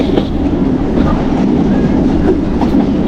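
A train in Bangladesh runs along the rails with a loud, continuous rumble and faint rhythmic clatter, heard close from on board without talking.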